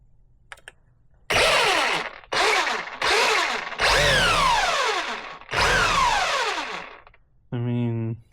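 A Traxxas 4-Tec 3.0 RC car with a C8 Corvette body and a converted brushless motor revs at full throttle in five loud, close, high-pitched whining bursts with swooping pitch, then a short buzzing tone at the end.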